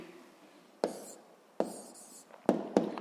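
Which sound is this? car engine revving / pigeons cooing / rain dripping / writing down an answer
writing down an answer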